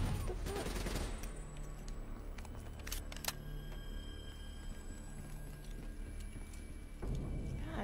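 Rapid gunfire bursts and single shots from the shooter game Call of Duty: Black Ops 3 crackle through a battle, mixed with impacts and low rumbling effects.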